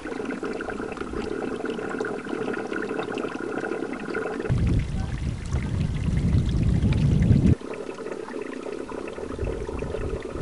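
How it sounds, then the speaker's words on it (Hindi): Meltwater rushes beneath Hopar Glacier in Hopar Valley, a continuous loud roaring flow that swells into a deeper, heavier surge midway, then settles back, with no one talking. "ये ग्लेशियर के नीचे जो पानी के चलने की जो आवाज़ है ना क्लियर आपको नज़र आएगी"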